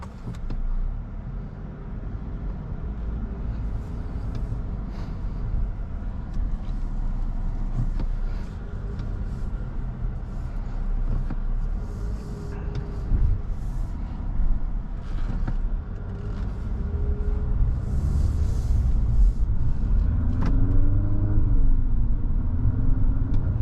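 Cabin of a 2024 Infiniti QX55 Luxe on the road, with a steady low engine and road rumble and tire noise that rises slightly as it accelerates, and no voices.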